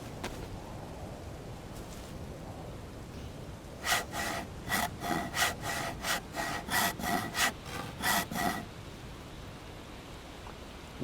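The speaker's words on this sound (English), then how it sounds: "I'm hoping the hacksaw will last one more round here." A hacksaw cuts through material in about a dozen quick, even rasping strokes close by, starting after a few seconds of quiet room noise and stopping near the end.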